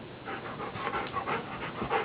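A dog pants quickly and rhythmically up close, short breathy huffs repeating without pause.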